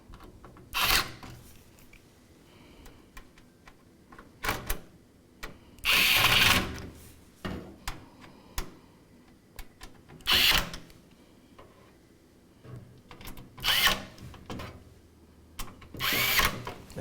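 Power screwdriver driving screws into a Gamdias Talos M1 computer case during a PC build, heard as a series of short whirring bursts separated by pauses, fairly close and with no talk over them.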